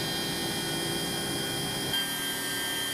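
Electric motor of the Eliica electric supercar spinning at very high speed past 12,000 RPM, a dense, steady high-pitched whine and whirr with tonal lines, continuous and loud, without speech.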